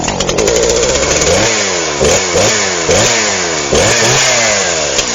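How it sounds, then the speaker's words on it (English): A Stihl MS-171 chainsaw engine revs loudly and close, its buzzing pitch repeatedly climbing and dropping in rapid surges with no pauses throughout. "Do you want a great sounding chainsaw like that?"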